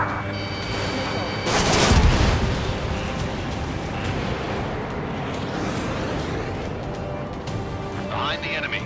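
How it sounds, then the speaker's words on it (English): Heavy gunfire and explosions from enemy tanks in Ace Combat 7, a big blast early then a dense rumble of shots, with radio voices talking over the combat. "We're taking fire from multiple enemy tanks."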